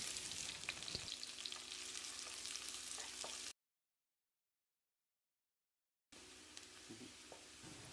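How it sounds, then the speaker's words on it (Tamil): Chopped onions sizzle and crackle steadily in hot oil for a mushroom gravy, broken by a few seconds of silence before the frying resumes, with occasional stirring clinks. "வெங்காயம் நல்லா வதங்கணும்"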